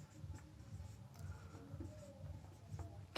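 Chalk or marker writing on a board during a maths class, soft scratchy strokes in short repeated runs, faint and close, with a quiet room behind.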